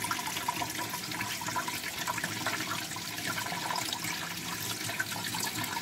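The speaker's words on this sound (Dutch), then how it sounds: "Dit is smeltwater. Water komt van het dak." Meltwater from melting snow runs off a roof, a steady splashing trickle and patter of falling water, continuous and moderately close with no voices.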